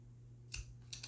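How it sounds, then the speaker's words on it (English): Scissors make a few tiny snips through fabric while a car trash can is being sewn. The clicks are faint and close, and they arrive in a quick little cluster over a steady low hum. "then you just want to make a teeny tiny snip"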